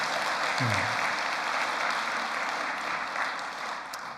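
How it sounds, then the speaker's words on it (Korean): A church congregation applauds in thanks during a worship service: dense, sustained clapping from a large crowd filling the room for about four seconds, fading slightly at the close. "우리 여러분 감사의 박수 보내주시면 고맙겠습니다"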